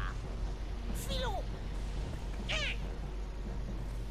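A cat in the video game Legend of Kay meows twice, each a clear rising-falling call over a steady low game background hum.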